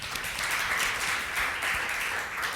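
A conference audience applauds at the end of a panel session on open source technology, a soft, blended wash of many hands heard from some distance, steady for its whole length.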